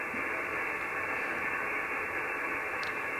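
Steady hiss of HF radio static on the 20-meter band, received on a diamond antenna, fills the clip, even and unbroken, with no voices or signals standing out.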